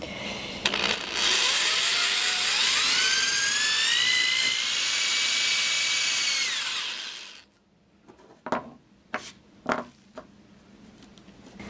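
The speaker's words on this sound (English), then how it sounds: "I'm just going to have to make the hole bigger with this drill." A power drill whines loudly and steadily, its pitch climbing as it spins up, enlarging a hole in a dresser, then stops; a few sharp knocks and clatters follow.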